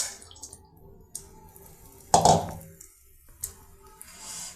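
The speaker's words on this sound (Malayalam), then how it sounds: "മുമ്പേ കടുക് വറുത്ത് വെച്ചിരുന്ന ആ വെള്ളം പതുക്കനെ ഇതിന്റെ മേളിൽ കൂടെ ഒഴിക്കാം." Water tempered with fried mustard seeds is poured slowly over dhokla, making one brief wet splash and pour amid soft drips and quiet kitchen handling, with no talking.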